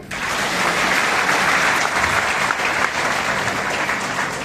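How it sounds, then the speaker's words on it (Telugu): An audience claps in a dense, sustained burst of applause that is loud and even throughout, with no speech heard over it. "క్లాప్స్ కొట్టాలి."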